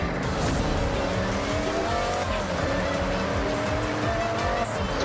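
A car drifting through a drift zone in the racing game Forza Horizon, engine roaring continuously with sustained tire squeal, loud and dense throughout with no pauses.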